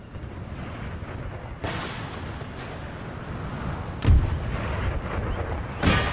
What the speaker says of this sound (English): Look at that, they're already firing,